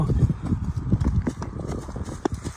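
A horse's hooves clip-clopping at a steady walking rhythm on firm ground, moderately close, under a low background murmur that may be voices.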